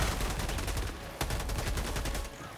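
Rapid automatic gunfire in a first-person shooter video game, loud, dense bursts of shots with a sharp single report midway, close and continuous throughout.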